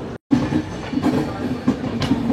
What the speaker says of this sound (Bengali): ট্রেন কিন্তু ছেড়ে দিল।